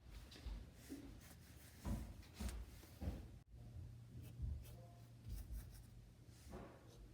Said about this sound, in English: now we're gonna go to the mechanical pencil